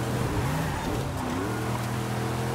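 A car engine drones and revs steadily in a Forza Horizon 5 street race with traffic, loud and close throughout with a shifting pitch.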